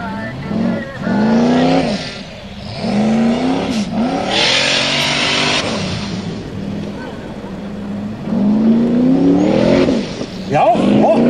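A Formula Offroad race car's engine revs hard at an Akureyri competition in Iceland, loud rising and falling wails as the throttle is worked repeatedly, with excited commentary talking over it.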